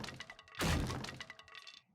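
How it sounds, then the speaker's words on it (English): In the video game 7 Days to Die, a character bangs into blocks beside a wooden door, giving one loud, close cracking thunk that breaks apart into a rattling, scattered tail. "we're going to bang into these blocks next to the wooden door here"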